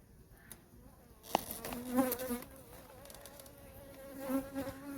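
Honeybees buzzing during a brood inspection of a hive colony in October, a faint, close hum with individual bees droning past in wavering tones and a few small knocks, no speech.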